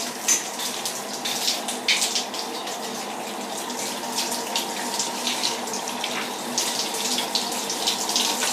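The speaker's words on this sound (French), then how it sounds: "Dernier petit coup de rinçage pour s'assurer qu'il ne reste pas une goutte de savon" Steady running water rinsing a cat in a bathtub, a continuous stream with occasional louder splashes, close by and without talk.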